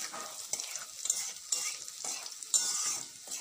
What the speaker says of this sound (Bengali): রসুন থেতো করে রেখেছিলাম রসুনটা দিয়ে দিলাম